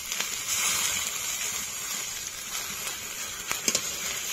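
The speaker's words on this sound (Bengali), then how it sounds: "এবার মশলা ধোয়া জল দিয়ে দেব।" Spice-rinse water poured into a pan of Bengali-style chicken curry with ground cumin and dry chilli paste, giving a steady wet splashing sizzle at close range with a few sharper splatters near the end.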